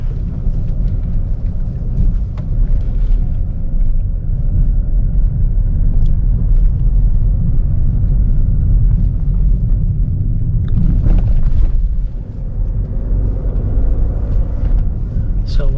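The engine of a 2020 Honda City diesel automatic drones as a low, steady rumble heard from inside the cabin during a test drive. The sound stays loud and continuous, and someone talks over it.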